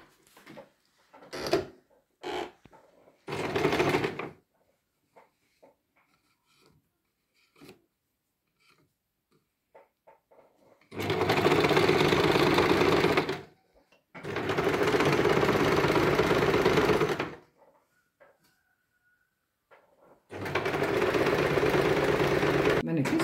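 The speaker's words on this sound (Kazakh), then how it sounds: "Қазір осы тігіп жатқанымды көрсетемін сіздерге." A sewing machine stitches fabric along a seam, running in three long steady bursts of a few seconds each after some short starts and stops, loud and close with pauses between runs.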